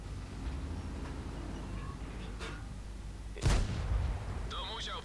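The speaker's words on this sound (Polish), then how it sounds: "I tu będzie chyba strzał." A heavy tank cannon blast in World of Tanks booms out over a steady rumbling engine drone, followed by a faint mechanical whine.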